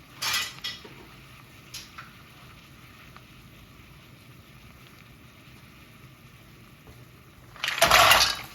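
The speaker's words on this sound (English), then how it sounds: "add the mussels and stick the top on straight away." Mussels tipped into a pot over high gas heat with white wine, then the lid put on, giving a brief clatter of shells and metal near the start and a louder lid clang at the end, with quiet kitchen background between.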